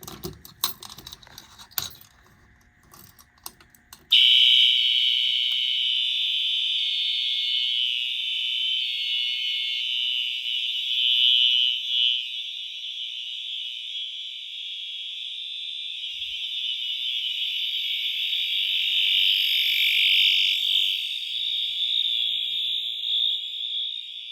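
A fire alarm blares continuously during a fire alarm system test, a steady, piercing electronic tone, loud and close, following a few seconds of clattering and jangling at the start.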